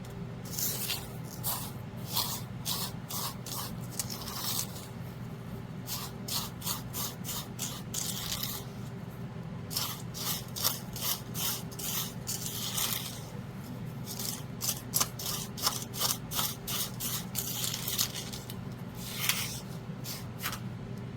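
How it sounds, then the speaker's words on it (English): Sand being added to the bottom of an underwater treasure diorama, a series of soft gritty hissing pours and scraping rubs in bursts over a low steady room hum, close and fairly quiet. "I'm going to go ahead and add some sand down here at the bottom."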